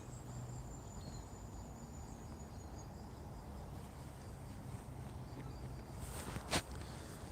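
Crickets and other insects chirp steadily outdoors in the morning, a faint, continuous high trill with a soft footstep-like thump near the end.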